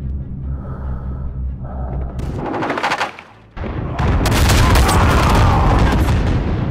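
Gunfire and heavy blasts from the WWI mountain-combat shooter Isonzo, with loud booming shots, a brief drop to near quiet, then a sustained roaring barrage of rapid fire and explosions close up.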